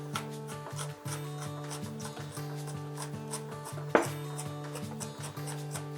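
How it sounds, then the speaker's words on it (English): A knife mincing chopped sweet onion on a cutting board, quick steady rhythmic taps close up with a sharper knock partway through, over a faint background hum and no talking. "Now that it's all chopped, we can mince it a little bit finer"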